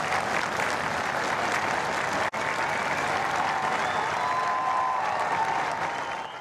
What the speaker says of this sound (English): as the casket was coming into Buckingham Palace, there were, rounds of cheers from the crowd.